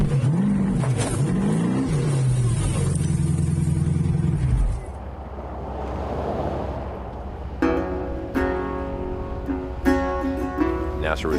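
A Toyota 4x4 trophy truck's engine roars and revs hard while driving off-road, loud and close at first, then drops to a rumble with clattering bangs and bursts of higher engine tones.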